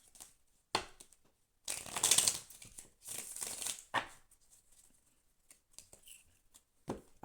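Tarot cards shuffled by hand in several separate bursts of riffling and flicking, close and fairly soft, with short quiet gaps and scattered card taps between.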